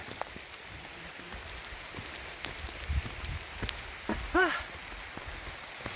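Steady rain patters across surfaces with scattered heavier drops, and a brief whistling tone rises near the end.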